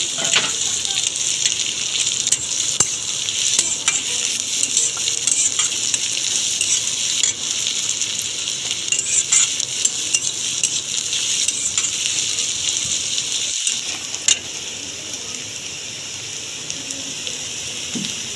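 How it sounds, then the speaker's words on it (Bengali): Chopped onion sizzles steadily in a pan for a long stretch, with frequent clicks and scrapes as it is stirred. A hissing layer runs throughout, briefly drops out, then eases slightly toward the end. "পেঁয়াজটাকে একটু ভালোভাবে ভেজে নিতে হবে"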